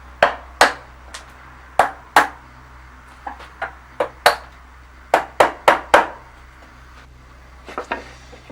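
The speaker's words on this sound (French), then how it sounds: "on vient retirer le reste avec le ciseau à bois" A wood chisel pares away waste from reclaimed wood, giving sharp, irregular taps and knocks, some close together in quick clusters, with pauses between them.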